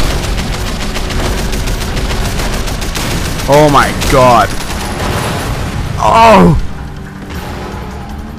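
Fireworks explode in the Sleeping Dogs video game during a demolition derby: a dense crackling fusillade of bursts that builds to a loud boom, while a man exclaims over the blasts.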